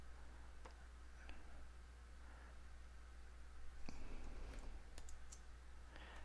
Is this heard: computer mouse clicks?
yes